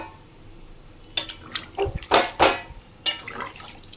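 Water goes into a pan of cooking chicken, producing a few short splashy pours and hisses in bursts after a quiet start, with a light clink of the pan, no talk.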